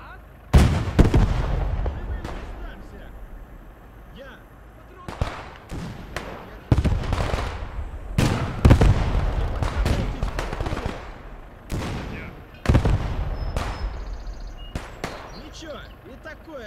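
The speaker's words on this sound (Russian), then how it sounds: "Пушки грохочут." Artillery fires in the World War II game Gates of Hell: Ostfront on the Eastern Front, loud booming blasts repeating at irregular intervals and each followed by a rolling echo. Battlefield noise fills the gaps between shots.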